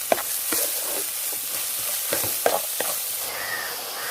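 Onions sauté in a pan with a steady soft sizzle. A spoon scrapes and stirs against the pan in irregular clicks and scrapes. The sound is close and there is no talking.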